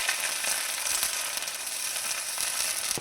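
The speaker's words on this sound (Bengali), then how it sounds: "এখন নাড়াচাড়া করে একটু ভেজে নেব" Ginger and garlic paste fries in hot oil for a soybean curry while being stirred, giving a steady, loud, dense sizzle with light scraping, close up and without voices.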